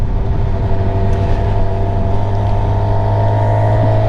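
A 2023 Suzuki GSX-R1000 sport bike cruises with a loud, steady engine drone and heavy wind rush, the tone holding even throughout with no voices.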